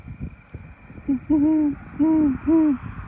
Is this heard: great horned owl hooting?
yes